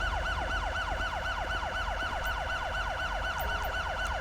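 A police car siren from the video game LSPDFR wails in fast, repeating up-and-down sweeps, loud and unbroken over a low engine rumble, with no speech.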